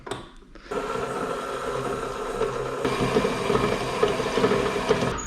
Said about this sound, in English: in my bowl, I've got some unsalted butter and some sugar. And we're just going to cream those together